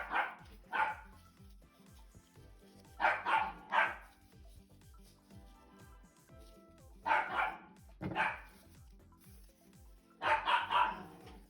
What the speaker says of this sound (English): Little girl wouldn't stop barking.